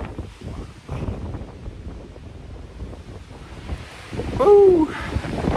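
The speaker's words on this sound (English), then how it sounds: "It's windy." Wind blowing across an exposed mountainside, gusting unevenly against the microphone, with a short whistling tone and a stronger surge near the end.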